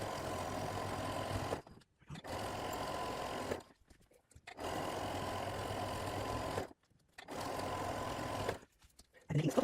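Sewing machine stitching the first straight seam of a quarter square triangle quilt block, running in steady bursts of a few seconds each, separated by short pauses, close and fairly loud.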